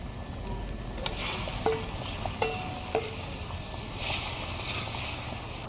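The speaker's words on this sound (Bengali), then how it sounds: "এবার এর মধ্যে মাছগুলোকে দিয়ে দেব" Ritha fish going into a boiling fish curry gravy, a steady bubbling simmer with a few sharp clinks and splashes as pieces drop in, close and moderately loud, no talking.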